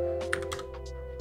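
A computer keyboard clicks in a short burst of quick keystrokes while someone sets a size value in Photoshop, the taps close and crisp over a steady low hum.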